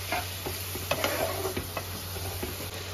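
Spices are stirred and sautéed in a pan, with a steady soft sizzle under irregular scraping taps of the spoon against the pan.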